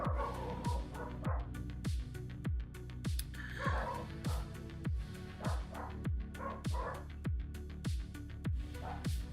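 Dogs bark repeatedly in a steady, close series of sharp woofs and yips, continuing throughout without pause.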